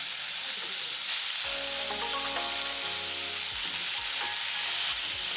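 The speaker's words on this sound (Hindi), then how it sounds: "तेल गरम हेले हमें सेथरे कंकड़ा पकेइबा।" Crab pieces sizzling and spitting in hot mustard oil in a kadai, a loud steady fry that flares sharply after the crab drops in, with faint clinks of utensils and no talk.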